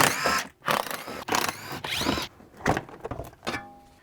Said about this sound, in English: Continuing with the 8mm screws, just remove these fender liners